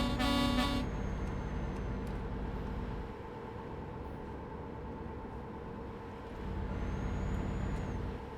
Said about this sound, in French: s'il te plaît, klaxonne-toi